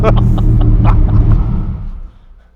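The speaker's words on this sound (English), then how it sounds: "this amazing loud car" A loud Bugatti prototype car engine rumbles deep and close in a private collection, a heavy low growl that holds steady, then tapers off and fades over the final half second.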